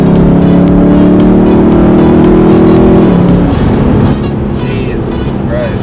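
A Lexus IS F with a V8 engine downshifts and accelerates hard, its loud, close engine note rising steadily in pitch, then dropping sharply as the gear changes before climbing again. No one talks.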